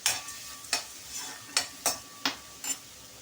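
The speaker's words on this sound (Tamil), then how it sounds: "இது இதோட சேர்த்து நல்லா கொஞ்சம் வதக்கலாம்." Ingredients for a mango thogayal being sautéed in a pan, with a soft ongoing sizzle broken by about seven sharp scraping stirs of a spatula at an uneven pace, close and moderately quiet.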